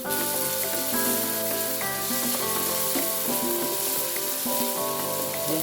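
Garlic sizzling as it is added to a frying pan while cooking pork giniling, a loud, steady frying hiss that runs throughout with no talking.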